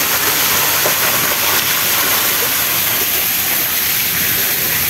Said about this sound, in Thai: นี่ก็เปิดน้ำตกเลยนะ